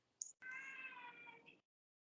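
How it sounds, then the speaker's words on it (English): A cat meows once, a brief chirp followed by a longer drawn-out tonal cry of about a second, fairly clear against near silence. "Is that a cat? That's a cat."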